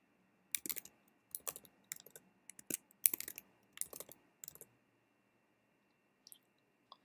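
Bursts of close, crisp computer keyboard typing while someone enters a password, in short clusters of keystrokes with brief pauses, then two faint taps near the end.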